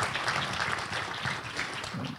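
Applause at a panel on Argentine naval engineering and industry, a steady wash of many hands clapping throughout the short stretch.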